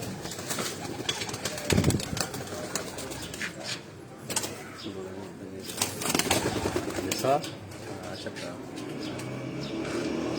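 Pigeons cooing in a rooftop cage, soft repeated coos and some wing flutter mixed with someone talking and background street noise.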